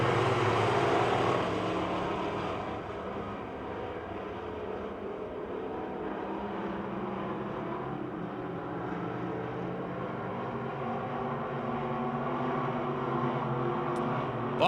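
Race cars at Pennsylvania Motor Speedway in Pittsburgh pull away from the start in a dense, continuous engine roar that swells briefly and then settles into a steady drone.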